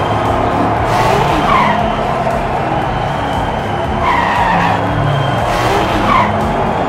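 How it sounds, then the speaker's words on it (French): Diecast miniature race cars skid and drift around a track, giving a steady, loud rolling roar with repeated high tire-squeal chirps as they slide through the corners. "Ah, ça drift beaucoup!"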